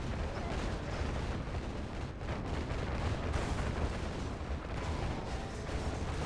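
Tanks firing in a real-time strategy game produce a continuous dense rumble of artillery and gunfire, steady and moderately loud throughout with no pauses.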